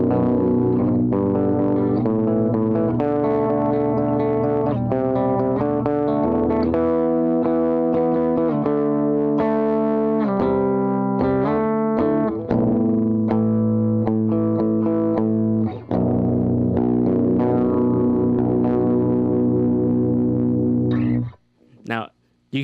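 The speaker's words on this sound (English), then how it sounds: "the guitar starts to kind of distort a little bit" A distorted electric guitar plays a chordal riff with sustained, crunchy notes and some effects shimmer, loud and continuous before cutting off near the end.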